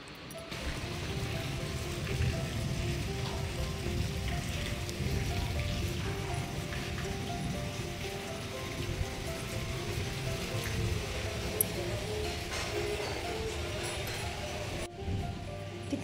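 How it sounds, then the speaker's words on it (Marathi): Heavy monsoon rain falls steadily outdoors near a coconut tree, a dense, even hiss that continues without break, moderately loud. "पाऊस"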